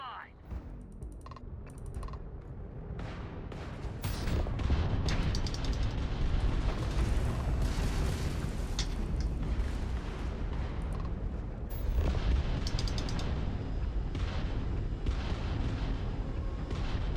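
Spaceship weapons fire in a space combat video game as a dense, loud barrage of rapid blasts and booms, swelling around the middle and running continuously with game noise.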